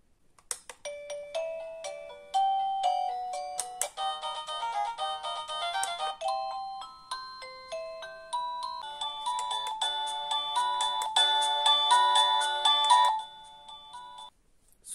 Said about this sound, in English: with a chime that can ring like a normal doorbell at home